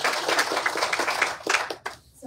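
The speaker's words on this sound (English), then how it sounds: "So if we could just give a quick round of applause" A short round of applause at a business alliance event in Culpeper, Virginia: scattered hand claps in uneven bursts that quickly thin out and stop.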